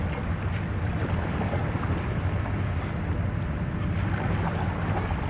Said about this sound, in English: I hope you'll appreciate the sounds of the waves